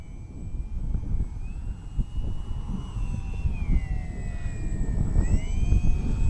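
An H-King Bixler 3 RC plane on its maiden flight in gusty wind over a grass field drones with an electric motor whine that rises and falls in pitch as it passes, under steady wind noise.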